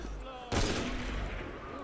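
Enemy gunfire in Assassin's Creed erupts in a sudden loud burst of shots that then rumbles and decays, following a quieter stretch of game ambience.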